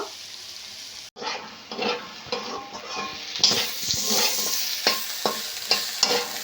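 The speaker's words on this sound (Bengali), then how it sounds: "ততক্ষণে একটু হোক ভালো করে ভেজে নেব" Diced potato and egg fry in oil in a pan for a sabudana breakfast, a soft sizzle under repeated scraping stirs from a spatula, close and rhythmic, with no talk.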